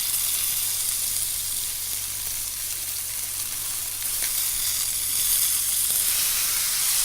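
A steak sears in a hot pan, its skin and fatty edge crackling with a continuous close sizzle and spitting hiss that runs throughout without any talk.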